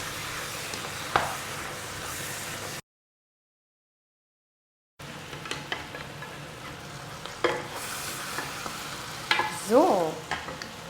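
Tomato paste fries in a pan for a goose-roast gravy, giving a soft, steady sizzle with occasional scrapes and clinks of stirring, close but fairly quiet, broken by a short silent gap.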